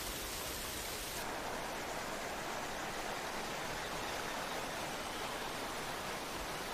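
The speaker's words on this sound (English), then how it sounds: "Below the moors, waterfalls spill into wooded ravines." Waterfalls spill into wooded ravines below the moors of Kenya's Aberdares, making a steady, dense rushing roar that fills the whole stretch without a break.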